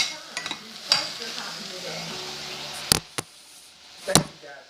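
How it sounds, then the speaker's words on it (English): Pork chops crisping in a pan with caramelized onions and garlic sizzle softly under scattered sharp clanks and scrapes of a utensil against the pan. "I'm just letting them crisp up with caramelized onions and garlic"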